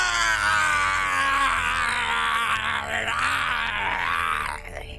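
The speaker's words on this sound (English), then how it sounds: "Goku jumps up and starts screaming, Kamehame!" A loud, sustained anime battle scream from Goku in a Dragon Ball fight. The harmonic-rich yell holds strong for about four and a half seconds, then breaks off near the end.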